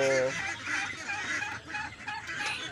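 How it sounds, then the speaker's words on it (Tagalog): Young ducklings about two weeks old on a Filipino duck farm, a steady chorus of high peeping calls overlapping each other at close range, with a brief lower honk near the start. "So yung 2 weeks old natin na mga sisiyo."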